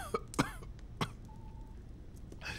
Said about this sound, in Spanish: No paras de toser.